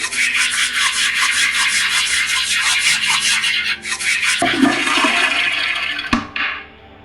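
A toilet flushing in the analog horror video game Boisvert, a loud rushing water swirl that surges, gurgles and drains away to near silence at the end, with no speech.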